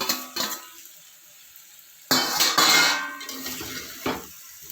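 Mutton liver and heart pieces drop into a new hot pan with a sudden loud clatter and sizzle, followed by metal scraping and stirring knocks, close by with no talk.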